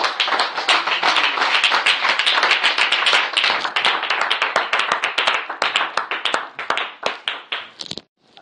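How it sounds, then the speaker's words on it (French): A church congregation at a prayer meeting claps loudly in a dense burst of applause that gradually thins into scattered, slower claps before stopping abruptly near the end. "Est-ce qu'on peut acclamer le Seigneur Jésus-Christ?"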